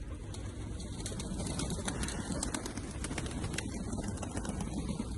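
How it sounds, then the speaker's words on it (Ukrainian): Soft cooing of street pigeons being fed comes through a steady outdoor background hum with scattered faint chirps, continuous and moderately distant. "Приїхала погодувати голубів"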